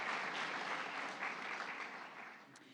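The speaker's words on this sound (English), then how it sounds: "you can applaud" An audience at the Tribal Nations Summit claps in sustained applause from a large crowd. The dense clapping fades gradually over a few seconds with no speech over it.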